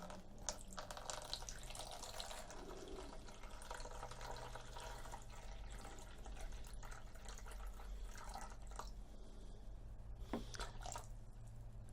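Steady water running and splashing into a container for homemade gesso, continuous and close, with faint drips and clinks over a low background hum.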